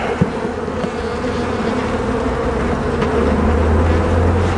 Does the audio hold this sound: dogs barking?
no